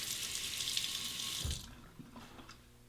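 Running tap water rinses a Muhle R41 safety razor in a sink, a steady close splashing hiss for about a second and a half, then the flow cuts off leaving a few faint drips and clinks.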